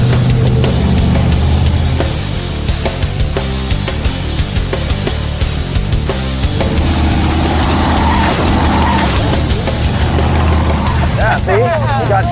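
A 1968 Dodge Charger's engine roars loudly and continuously as the car is driven hard off a ramp, with steady motor noise and tire sounds running beneath ongoing talk.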